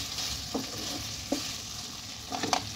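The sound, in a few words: cauliflower stirred in pan with ghee and green chillies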